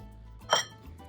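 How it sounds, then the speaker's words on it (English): A single sharp knife whack into an avocado seed, a brief close clink, quiet before and after. "just a little whack on it and twist, and your seed should come out"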